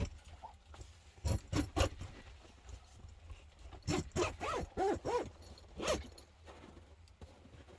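A sleeping bag or tent zipper is pulled in short raspy bursts during winter camping, a quick run of three strokes followed by several more after a pause, close and fairly quiet over soft background hiss.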